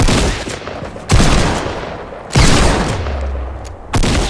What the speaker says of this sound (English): The fire you heard was Omega shooting a guy.